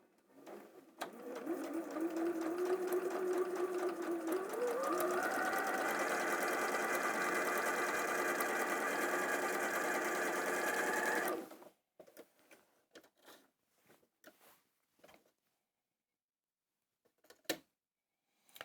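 A sewing machine runs a steady whir for about ten seconds as it stitches a scant quarter-inch seam in quilting fabric, climbing in pitch partway through. It then stops, and faint clicks and handling noises follow.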